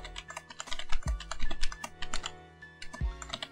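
Fast, uneven clicking from a computer keyboard as someone types in quick bursts, the individual keystrokes close and crisp, with no talk over it.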